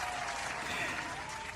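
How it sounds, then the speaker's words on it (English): A brief burst of crowd applause during a live-stream, dense and continuous, fairly quiet and even throughout with no voices standing out. "round of applause."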